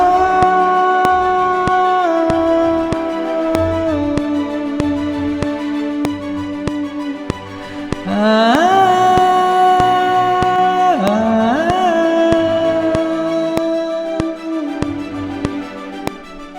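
A sung vocal line soaked in heavy reverb, long sustained notes whose tails smear and hang into one another, with a brighter wavering phrase in the middle, loud and alone without any talking over it.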